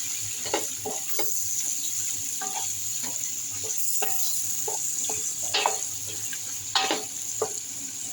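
Curry shrimp sautéing in a pan with spices, a steady close sizzle under repeated clinks and scrapes of a spoon stirring, with no voices.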